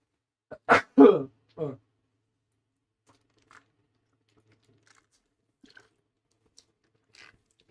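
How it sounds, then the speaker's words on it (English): A single sharp sneeze bursts out close by, quickly followed by a couple of short breathy sniffs, then near silence with faint small noises. "Now I have to sneeze, pardon me."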